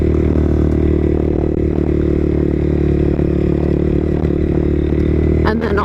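A motorcycle cruising along a highway, its engine a steady, loud, continuous drone mixed with road and wind roar throughout, no talking heard.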